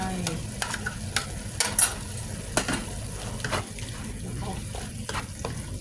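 Pork belly stir-fries in a pan with shrimp paste, chili, garlic and stink beans. Steady sizzling runs throughout, broken by repeated sharp scrapes and clacks of a spatula stirring the pan.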